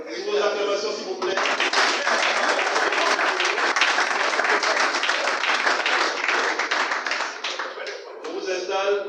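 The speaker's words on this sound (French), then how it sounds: "Vos acclamations, s'il vous plaît." Audience applause at the official launch of a teachers' network in Gabon, a loud, dense burst of clapping that swells after a brief voice, holds steady, then dips as a voice returns near the end.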